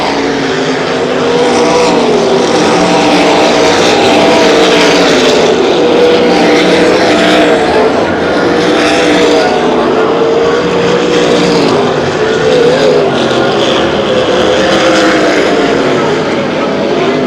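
Sprint race cars roar around Knoxville Raceway, a 1987 dirt-track event, as a loud continuous multi-engine drone with rising and falling pitch while the leader laps slower traffic.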